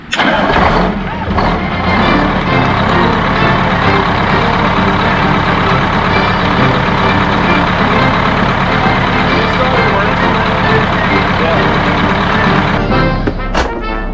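A bus engine runs loud and steady right after the starter catches, a close, dense rumble that holds throughout before dropping off near the end.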